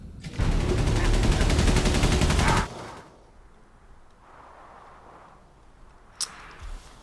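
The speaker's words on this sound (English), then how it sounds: "this is the only machine gun firing at me" A machine gun in the World War I video game Valiant Hearts: The Great War fires a long, rapid, loud burst for about two seconds, followed by quieter in-game ambience and a sharp click near the end.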